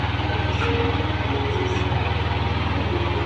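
A Yamaha Aerox scooter showing fault code 61 runs at a steady, even idle close by, a continuous buzzing engine throb with no voices over it.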